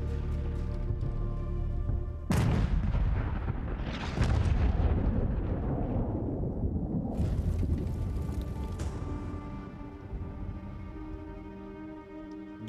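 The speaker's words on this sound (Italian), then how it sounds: "Vengono martellati da un bombardamento d'artiglieria quasi continuo, guidato da un Morser Karl, un gigantesco cannone semovente." Artillery bombardment from a Karl-Gerät giant self-propelled siege mortar in archive wartime footage: a continuous heavy rumble with two sharp booming blasts, each trailing off into a long roar, with no voices.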